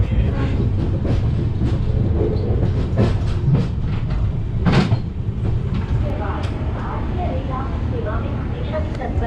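Ramnagar Bandra Superfast Express passenger train running on rails, a loud continuous rumble with rhythmic clacking of wheels heard from inside the train, with people talking over it.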